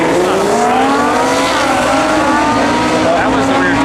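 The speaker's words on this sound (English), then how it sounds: "That was the rear tire spin." A Nissan GT-R launching at a drag race, its engine roaring loud and continuous with rising pitch as the rear tires spin, heard up close over crowd noise.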